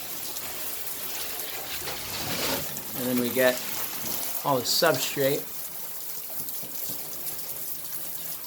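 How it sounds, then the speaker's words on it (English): Garden hose sprays water across a reptile enclosure and its substrate, a steady hissing wash with splashing bursts, under quiet talk. "part of what I do is I have to hose down pretty much this entire cage"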